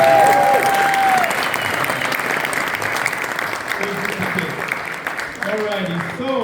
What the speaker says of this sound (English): And once again, clap it up for the boys.